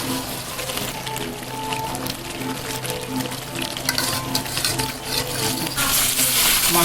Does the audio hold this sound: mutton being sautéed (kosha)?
yes